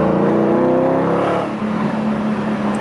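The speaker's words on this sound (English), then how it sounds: "He's going to hear his car revving up." A 2005 Ford Mustang GT five-speed V8 revs loudly and close, the engine note climbing and then settling into a steady throaty roar.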